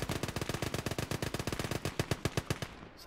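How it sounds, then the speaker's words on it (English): An MG machine gun lays down cover fire in the Gates of Hell battlefield game, a loud, rapid, steady burst of shots close by that runs about three seconds before cutting off. "It's an MG cover fire."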